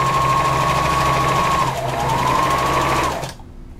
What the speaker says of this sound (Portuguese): Eu vou colocar o tecido pra dentro e passo uma costura aqui